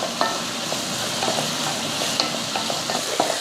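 Tomatoes frying with onions in a pan, stirred now and then, giving a steady close sizzle broken by scattered light scrapes and taps of the spoon.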